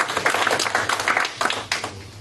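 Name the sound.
audience applause for a lady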